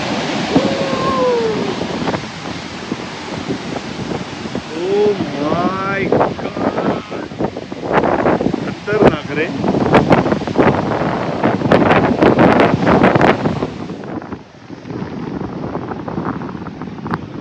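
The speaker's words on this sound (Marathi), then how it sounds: "ह्या बघा लाठा बघा" Heavy rushing surf from waves about 20 feet high crashing on a Konkan shore, with gusting wind roaring steadily throughout and people talking over the noise at times.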